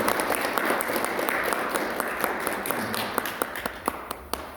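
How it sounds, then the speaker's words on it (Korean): Audience applause at an academic Buddhist literature seminar: dense clapping that gradually thins out into a few scattered, distinct claps near the end, heard at a moderate distance in a hall. "두 분께 큰 박수로 부탁드립니다"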